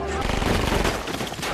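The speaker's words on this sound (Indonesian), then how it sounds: "Luke dan May mendengar suara baku tembak" Gunfire in a film shootout between police and criminals, a rapid burst of shots rattling over a dense, loud soundtrack with some voices mixed in.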